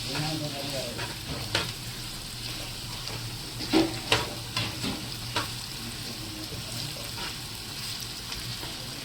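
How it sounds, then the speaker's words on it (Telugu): Onions fry for biryani in a pan with a steady, soft sizzle, broken by a few stirring scrapes and knocks. "ఇప్పుడైతే ఉల్లిగడ్డలు ఫ్రై చేసుకున్నాం బిర్యానీలోకి"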